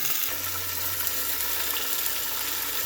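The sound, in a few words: pork chops searing in a pan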